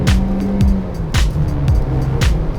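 A Kia Soul GT Line turbo on the road, its engine pulling hard after a paddle-shift downshift into third, with repeated rising whooshes and tonal sweeps close by and no talk.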